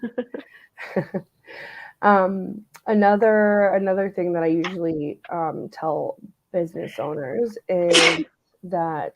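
A single sharp sneeze bursts out near the end of steady conversational speech during a recorded podcast-style interview, with people talking throughout.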